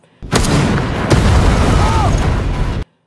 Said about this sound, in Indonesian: Tembakan pertama dilakukan oleh Ben yang langsung meledakkan sebuah kapal di sana